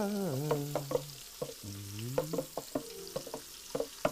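Food frying in a pan while being stirred with wooden spoons: squeaky scraping glides and sharp clicks over a soft sizzle, close and fairly quiet, with no talking.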